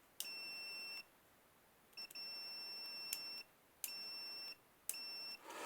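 A Sefram 70 voltage tester gives continuity-test beeps: four sustained high electronic tones, each lasting about a second, separated by short silences, clear and close in a quiet room.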